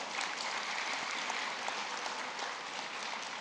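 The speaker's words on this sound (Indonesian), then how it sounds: "Mari kita berikan aplaus terbaik untuk para orang tua kita." An audience at a university graduation ceremony in Indonesia claps for the graduates' parents, a dense, even wash of many hands applauding from a distance, sustained without pause.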